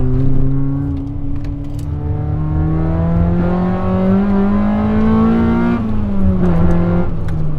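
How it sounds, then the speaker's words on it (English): A Honda Accord Euro R's H-series engine revs hard and climbs steadily in pitch, a loud close-up mechanical wail that eases slightly near the end, with no talking. "Listen to that! The H series is an absolute screamer."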